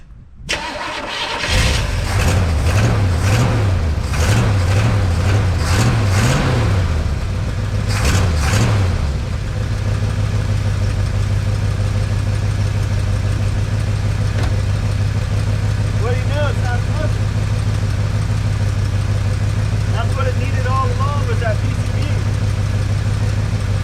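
A 1962 C10 engine cranks and fires, then revs in a few quick bursts before settling into a steady, loud idle with a deep low hum, while a person talks briefly in the background.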